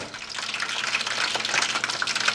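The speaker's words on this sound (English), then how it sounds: "And I've got the fries cooking, as you can hear." Fries cooking in oil for a vegan poutine give off a steady, dense crackle and bubbling sizzle that holds at an even level throughout, with no voices.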